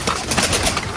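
A pigeon coos in short soft pulses, close and clear over a steady broadband hiss, with no talking.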